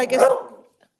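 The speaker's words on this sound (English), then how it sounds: "I'm sorry, my dog is barking." A single short dog bark, close and fairly loud, fading away within half a second during an electric board meeting.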